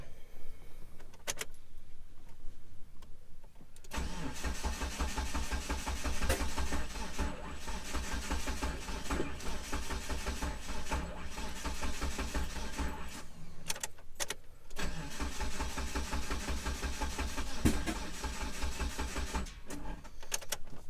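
A 1997 Mitsubishi Eclipse GSX with a freshly swapped 6-bolt engine turns over and runs steadily close by, a continuous loud low-pitched drone with brief dips partway through and near the end, no talking.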